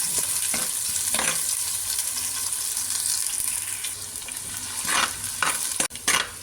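Onions sautéing in a clay pot for chicken biryani make a continuous hissing sizzle with occasional stirring scrapes, growing busier toward the end, close and steady, with no voices.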